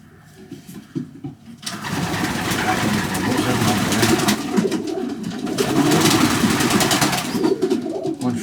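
Young pigeon being handled: soft, throaty cooing up close, over steady rustling of feathers and hands. Voices may be faint in the background.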